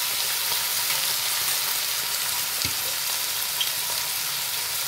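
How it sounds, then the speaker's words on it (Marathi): Prawns sauté in a pan with dark soy sauce, a steady close sizzle and frying crackle with an occasional stir, no talk. "आता हे आपण जरा वेळ सॉते केले"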